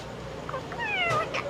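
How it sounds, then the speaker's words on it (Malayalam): A cat meows in a few short rising and falling calls close by, clear against a low background hum. "പൂച്ച."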